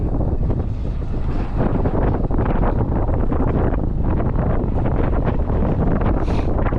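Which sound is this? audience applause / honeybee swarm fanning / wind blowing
wind blowing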